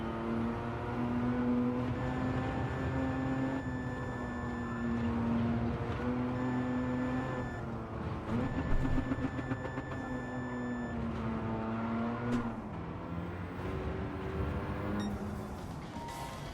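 An engine in Gran Turismo, during an intermediate licence test, holds a steady, buzzing tone that shifts in pitch as the car comes out of a corner, with a noticeable drop and rise partway through.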